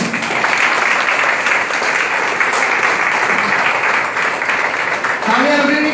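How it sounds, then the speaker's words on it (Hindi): Loud, steady applause from a company training-program audience welcoming a vice president, sustained throughout with a voice briefly speaking near the end. "जोरदार तालियों से हमारे कंपनी के vice president mister Divya Prakash ji का स्वागत करें"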